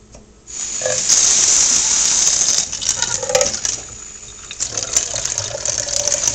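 Tap water runs strongly into a sink while beans are rinsed, a close hissing stream that starts abruptly, carries on with splashing and patter, dips briefly, then resumes.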